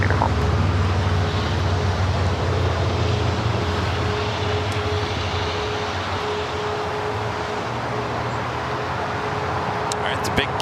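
An airliner takes off from runway 25 right at LAX, a steady loud jet roar with low rumble holding across the whole stretch, mixed with faint radio-like voices.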